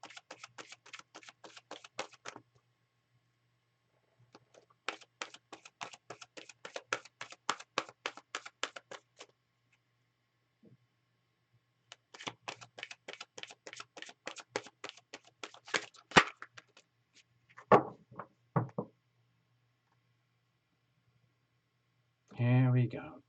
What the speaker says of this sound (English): I'm going to shuffle again, and I'm going to cut again.